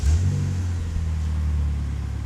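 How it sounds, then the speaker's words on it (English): A 1988 Ford Escort RS Turbo engine running close by, a loud, steady low rumble with slight revving throughout, no voices. "But this is how quick it starts up now."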